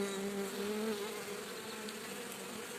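A honey bee swarm on an apple tree buzzes loudly and close, a dense continuous whine with shifting pitch as individual bees pass near.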